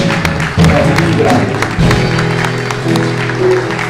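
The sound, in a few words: congregation applause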